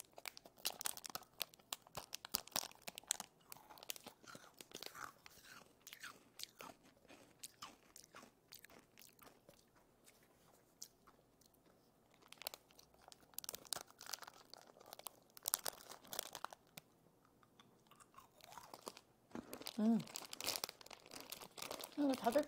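Kohakuto, a hard crystal candy, is crunched and chewed close up while its wrapper crinkles and tears in sharp bursts, with soft talking in between.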